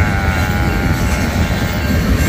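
A freight train of four-bay hopper cars rolls past close by, a loud continuous rumble with steady rail noise and faint metallic ringing, no voices.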